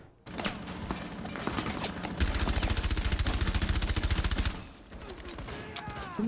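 Sustained automatic gunfire in the tactical shooter Rainbow Six Siege, a dense rapid burst of shots that swells loudest midway, with scattered single shots and other game effects before and after.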